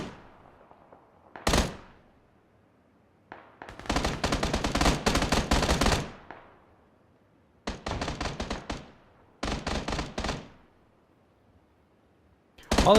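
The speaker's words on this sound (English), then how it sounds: "Yeah, I'm popping shots with my AK." AK rifle fire in PUBG: a single crack followed by several sustained automatic bursts of rapid shots, loud and dense, separated by short quiet gaps.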